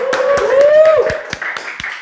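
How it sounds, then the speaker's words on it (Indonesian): Scattered claps from a small crowd, sparse and uneven, with a sustained musical tone underneath. "boleh tepuk tangan dulu"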